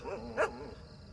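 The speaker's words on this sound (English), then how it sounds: "The white dog barked at them." A white dog gives one short, faint bark in the middle of a quiet moment, heard alone with no voices over it.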